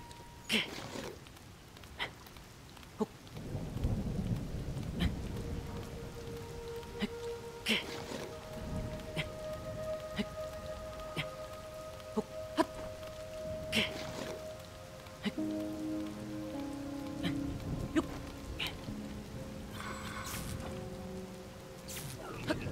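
Rainfall in Zelda: Tears of the Kingdom keeps up a constant hiss, with scattered clicks and tonal game music drifting over it; no clear thunder stands out.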